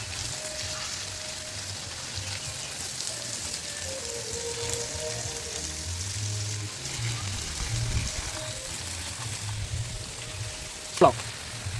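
Water flowing out of a tank outdoors in a village: a continuous broad rushing splash that holds steady throughout, with faint voices in the background.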